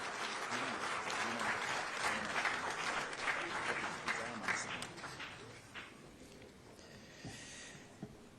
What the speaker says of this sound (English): Shall we please give His Royal Majesty another big round of applause?